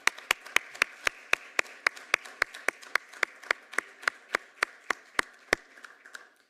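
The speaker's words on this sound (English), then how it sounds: "Please join me in a round of applause for their outstanding service." Applause at an Olympia city council meeting comes from a few hands, with sharp, evenly spaced claps that carry steadily for several seconds before trailing off.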